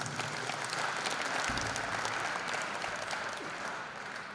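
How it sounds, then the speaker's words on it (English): Audience applause at the official opening of the Zone VI men's and women's volleyball championships in Limpopo. A steady, dense roar of clapping from a large crowd holds for several seconds and eases slightly near the end, with no talking. "Can you give them a very big round of applause?"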